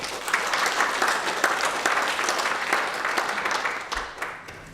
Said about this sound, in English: So a round of applause for Georgie.